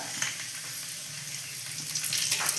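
Dried red chillies, cumin seeds and bay leaves fry in hot oil, giving a steady close sizzle that holds level throughout.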